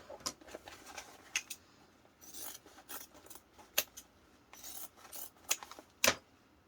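Scissors snip through fabric for a handbag sewing project, a run of quiet, irregular crisp cuts and rustles, close and soft, with no talking.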